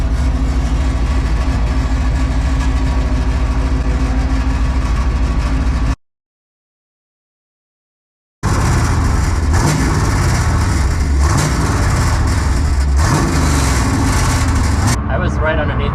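A Chevrolet Caprice with a T56 transmission runs on jack stands with a loud, rough engine drone and a rattling vibration from the rear, cut by a few seconds of silence before resuming, with a person talking over it.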